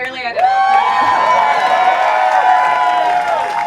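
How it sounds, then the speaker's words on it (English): A live audience at a comedy podcast taping in a big room in Somerville, MA breaks into steady applause mixed with cheers and whoops, loud and sustained throughout. "See, women get applause for that."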